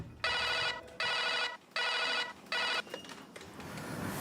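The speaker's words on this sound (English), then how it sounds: "At the management office in Dubai, a short but disturbing phone call is received." A telephone in a ship management office in Dubai rings in four long electronic bursts separated by short gaps, loud and alone, followed by low room noise.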